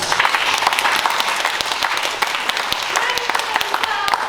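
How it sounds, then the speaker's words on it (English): Theater audience clapping hands to save Tinker Bell during a Peter Pan performance, a brisk, continuous patter of many hands with individual sharp claps standing out, fairly close and lively, with some voices underneath. "If you believe, clap your hands"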